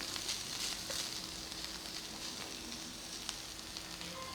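Chilli mince meat for a Mexican recipe stir fries in a pan, a steady broadband sizzle with faint scraping stirs, no talk, holding at an even level throughout.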